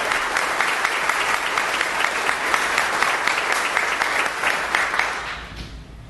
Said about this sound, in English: join me in a round of applause for our chamber leadership, and President Rob O'Brien